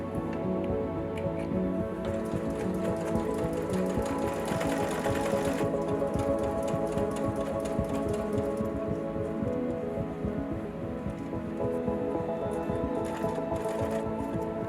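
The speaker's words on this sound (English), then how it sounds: "I then sewed the spandex along the sides and the inner leg seam" Sewing machine stitching spandex side and inner leg seams, a steady, rapid mechanical whir and needle chatter running without pause, close and fairly loud.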